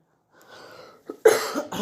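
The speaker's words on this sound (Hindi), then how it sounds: "मुझे ठंड लग रही, खांसी बहुत आ रही है" A couple of short harsh coughs, close and fairly loud, preceded by a faint breathy rustle, with no talking.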